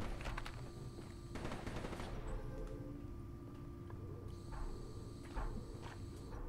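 Repeated gunfire in a Call of Duty-style zombies game: sharp automatic bursts close up in the first seconds, then scattered shots over a constant low droning game ambience.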